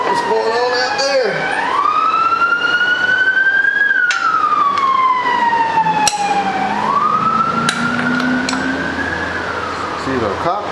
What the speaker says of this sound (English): It's either a cop car or sounds like a cop car.